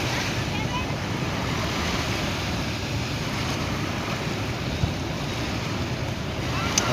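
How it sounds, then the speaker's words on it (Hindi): Sea waves wash onto a beach in a continuous, loud roar of surf, heavily buffeted by wind rumbling on the microphone, with no distinct breaks standing out. "चलो आ जाओ, अब बनेगी एक बड़ी लहर है।"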